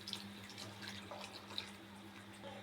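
Water poured into a spiced kurma mixture for serving with puri, chapati and idli, a soft steady trickle with faint splashes close by, heard alone.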